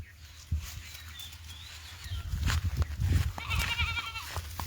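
A young white kid goat bleats on a farm, its cries coming in short bursts against steady background noise, with a few faint bird-like chirps near the end.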